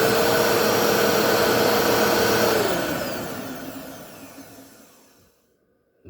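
A household vacuum cleaner motor, about two years old, runs with a loud steady whine, then slowly winds down and fades to near silence at the end.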